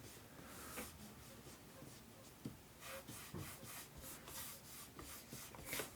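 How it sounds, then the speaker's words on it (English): A pencil scratches and rubs across paper while a sidewalk cube is sketched as a quick gesture drawing, a faint close-up series of short strokes in an uneven rhythm with no talking. "I'm just going to draw a little cube sitting lower."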